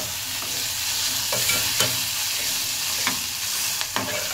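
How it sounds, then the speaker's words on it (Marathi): Onions browning in a hot pan sizzle steadily up close, while a utensil scrapes and taps against the pan every second or so. "इकडे कांदा तर लाल होतोय"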